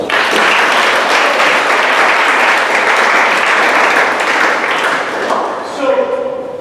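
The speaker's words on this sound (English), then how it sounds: "So give Rachel a round of applause." Loud, sustained audience clapping at a summer leadership workshop and panel discussion, a full dense round of applause that fades near the end as a voice and a few light taps come through.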